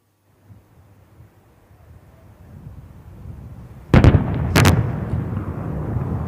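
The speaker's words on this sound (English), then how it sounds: "On the screens, you can see those guns in action." Indian Air Force artillery guns fire during the Vayu Shakti-24 exercise in Rajasthan, two loud, sharp booms in quick succession after a rising rumble, each followed by a rolling echo across open ground.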